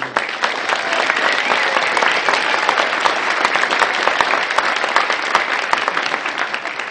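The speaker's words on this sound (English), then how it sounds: "So let's give them a round of applause." Loud, steady round of applause from an audience at a community United Way event, many hands clapping densely and evenly for several seconds with no talk.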